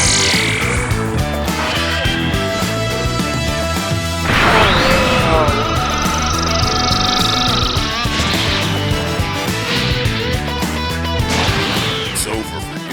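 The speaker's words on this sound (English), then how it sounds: "Powering up the special beam cannon," A Special Beam Cannon attack in the Dragon Ball New Hope video game charges and fires amid layered crashing impacts, whooshing energy sweeps and bright sustained tones, loud and continuous throughout.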